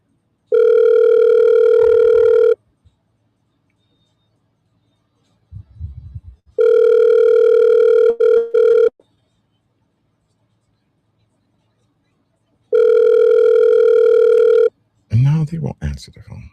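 A telephone rings unanswered on a call, three long steady electronic rings in a regular pattern with silent gaps, plus brief bursts of talk between them.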